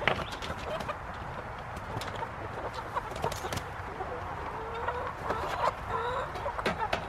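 Backyard chickens cluck in short, scattered bursts around a farmyard on a hot day, with soft shuffling and light knocks of feed and water being handled close by.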